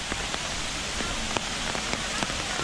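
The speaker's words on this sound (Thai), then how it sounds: "ฝนไม่ตกแรงมาก" Steady light rain patters on a surface near a waterfall in Chonburi, Thailand, with scattered distinct drops ticking through the soft continuous hiss.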